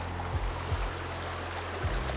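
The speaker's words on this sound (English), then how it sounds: "just coming up on the river crossing just before the hut" Stream water flowing at a river crossing on a tramping track near a backcountry hut on Takaka Hill, a steady low rush and trickle close by under heavy wind-like rumble, with no talking.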